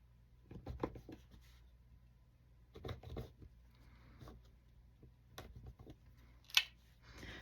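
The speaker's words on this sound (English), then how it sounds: "I'm going to cut this on a little bit long because I know I cut that a little crooked over there." Scissors snipping through ribbon for craft tags, several soft scattered cuts and rustles close by at low volume, with no talking.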